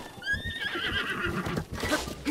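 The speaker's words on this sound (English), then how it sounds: "Wild horses!" A wild horse in the video game Zelda: Breath of the Wild whinnies in a loud, wavering neigh, with soft hoof-like thumps underneath.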